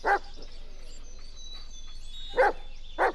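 A dog barks in the Blair Witch video game, three sharp barks spaced apart, one at the start and two near the end, over a steady faint ambient hum.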